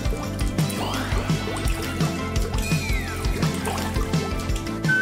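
Water running and splashing steadily while a doll is washed, a continuous trickle and pour with faint repeated drips and a low rhythmic background.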